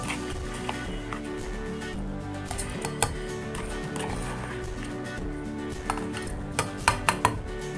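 Soaked rice tipped into a mixer jar in a home kitchen, giving light scattered clinks and clatter of grains and utensil against the jar, growing into a few sharper taps near the end over a steady background.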